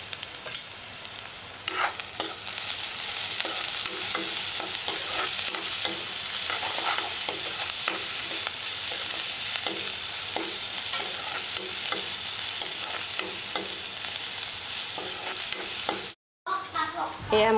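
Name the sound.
onions frying and being stirred in a pan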